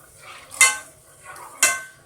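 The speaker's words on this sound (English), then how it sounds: "We're going to be stirring that." Evaporated milk from a 12-ounce can being stirred into a creamy spinach dip, with two sharp utensil clinks against the bowl about a second apart amid soft scraping, close and fairly quiet.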